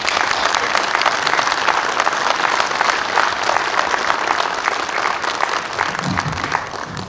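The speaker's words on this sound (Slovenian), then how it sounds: "še en aplavz vsem" Dense, steady audience applause at a Slovenian Armed Forces Logistics Brigade celebration in Slovenska Bistrica, loud and continuous, with a voice briefly emerging near the end.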